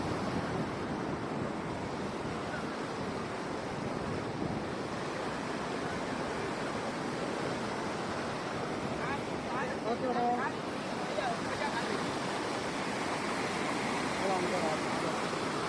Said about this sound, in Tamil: தண்ணி எவ்வளோ ஃபாஸ்ட்டாக போகுது பாருங்கள்